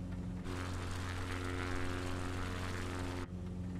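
A propeller plane's engine in Microsoft Flight Simulator, flying over Japan in windy conditions, drones steadily for a few seconds, loud and close, with a buzzing rotor tone that cuts off abruptly at the end.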